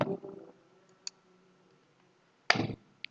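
A few sharp, isolated mouse clicks sound on a quiet background, one at the start, one near the middle and a louder pair near the end, with no talking.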